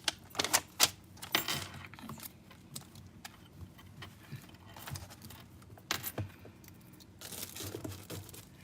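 Keyboard typing for ASMR class notes, quiet irregular bursts of close clicking keystrokes with pauses, heard alone in a hushed room.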